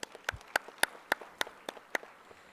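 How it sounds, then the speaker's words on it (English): Sparse, distinct handclaps at a university orientation, about nine separate claps spaced evenly, fairly quiet and alone, welcoming the Dean. "A huge round of applause for our Dean Sir"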